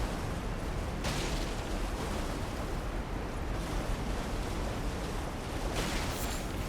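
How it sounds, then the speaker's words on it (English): A steady, dense roar of rushing water from a waterfall in the video game Elden Ring fills the whole stretch with constant broadband noise. "Because I hear waterfall."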